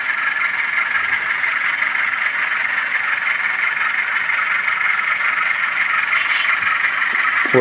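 Steady, close hum and whine of a running Rapido RS 11 model train locomotive, holding an even drone throughout with a brief faint squeak near the end and no talking.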